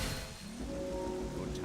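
Steady rain in the video game Zelda Twilight Princess HD hisses as a dense, even wash, with a faint tonal layer running underneath.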